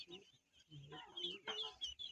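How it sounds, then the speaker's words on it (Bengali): Domestic ducks let out of their pen make short, close clucking calls in irregular bursts, with a voice talking nearby. "তো এখন দেখেন আমাদের হাঁস বাইরে ছাইরা দিলাম"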